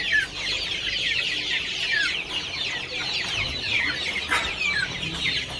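A flock of one-month-old native country chicks poured from a tray into a shed cheeps and clucks continuously, with many small overlapping calls close by at a steady level.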